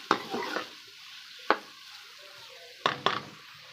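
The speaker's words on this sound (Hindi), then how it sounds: "इसके अंदर मैंने फ्राई कर लेना है इस प्याज को।" Onion frying in ghee as a stirring spoon scrapes the pan, with a soft sizzle underneath and a few sharp clacks of utensil against the pot, close and moderately loud, no talking.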